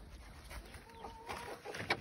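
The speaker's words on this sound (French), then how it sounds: "j'entends les poussins qui s'impatientent parce qu'ils voudraient sortir" Chicks and hens cluck and peep inside a sunny coop, faint and intermittent over a soft background hiss, with a few short calls near the end.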